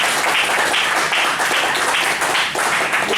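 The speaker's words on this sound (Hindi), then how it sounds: "एक बार तालियां बजा के स्वागत करेंगे।" A room full of people clapping to welcome guests at a talk-series event, loud and continuous with a slightly pulsing rhythm throughout, no voices over it.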